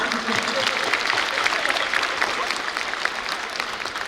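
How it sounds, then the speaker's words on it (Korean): An audience at a university graduation ceremony in a hall breaks into steady, dense applause, sustained and even throughout, with no voices standing out. "저희 박수 한번 치고 넘어갈까요?"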